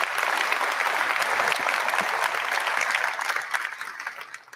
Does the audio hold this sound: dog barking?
no